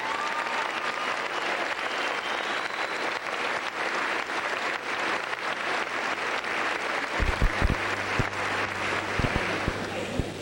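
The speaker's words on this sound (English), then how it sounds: "Let's give them a round of applause." A large audience at a 1991 high school event applauds steadily for top graduating students, an even wall of clapping that carries on for several seconds with a low hum creeping in near the end.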